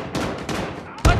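Gunfire in the mobile shooter Call of Duty Mobile, a few quick bursts of shots close up with a sharp loud blast at the end.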